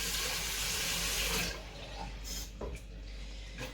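Water streams from a kitchen tap, a steady broad rush that fills the first second and a half, then eases to a quieter flow as the container tops up, close and alone without talk.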